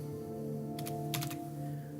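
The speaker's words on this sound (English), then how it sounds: "if you just start typing" Keystrokes on a computer keyboard while writing code, a short burst of a few clicks near the middle over a steady hum, close and moderately loud.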